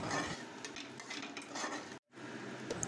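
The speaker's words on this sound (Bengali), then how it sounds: "আবারও সমস্তটাকে ভালো করে ভেজে নিচ্ছি।" Whole spices with a cinnamon stick are stirred and fried in a pan for a Bengali prawn bhuna, giving a steady scraping and clinking of the spatula over a soft sizzle, close and continuous, with one brief pause near the end.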